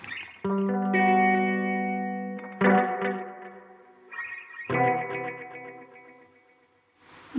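Sustained electric guitar chords and notes ring out through a BOSS RE-20 Space Echo using delay heads 1 and 3 with reverb, with repeats trailing off behind each struck phrase; no voices.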